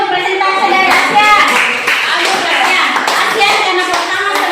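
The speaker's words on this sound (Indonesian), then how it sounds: "tepuk tangan untuk presentasi dari Asia" Classroom applause for a student presentation during an academic coaching session, energetic close clapping from a group of children and adults with voices mixed in throughout.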